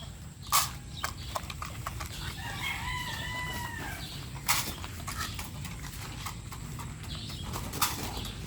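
A flock of hens and roosters at feeding time clucks and squawks nearby, with a rooster crowing midway and scattered sharp clucks over a low outdoor rumble.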